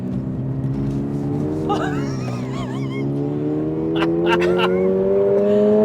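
A 2023 Subaru BRZ engine revs hard while the car slides sideways, its steady droning note climbing gradually in pitch, close and loud, with a voice exclaiming over it.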